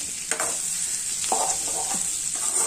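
Mini potatoes fry in a pan while being stirred, a constant hissing sizzle under a few soft scraping strokes of the spoon, heard close up.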